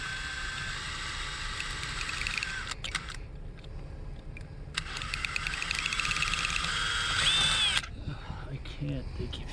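A power drill drilling into a lock whines in two sustained bursts with a pause between, grinding at close range over low background noise.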